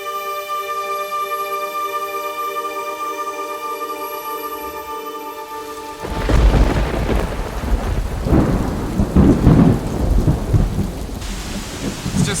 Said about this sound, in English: It's just started pouring down with rain.